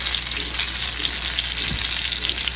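Egg-battered chile relleno fries in hot oil with a steady, close bright sizzle throughout, plus a brief low thump midway as the pepper is turned.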